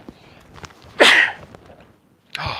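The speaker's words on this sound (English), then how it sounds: "I gotta sneeze." A person sneezes loudly and close up with one sharp burst, followed moments later by a second shorter burst after a brief quiet gap.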